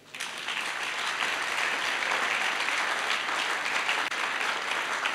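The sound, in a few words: church congregation applauding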